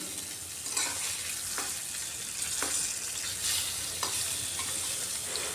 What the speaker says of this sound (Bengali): মাছগুলোকে এবার উল্টে দিচ্ছি এক পিট ভাজা হয়ে গেছে খুব সুন্দর অপর দিকটাও এইভাবে লাল লাল করে ভেজে নিচ্ছি